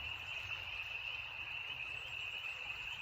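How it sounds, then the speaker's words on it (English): Frogs sing at night beside a creek as a faint, steady, high-pitched trill that continues unbroken, with low background rumble and no talk. "The frogs are coming out and singing at night, as you can hear."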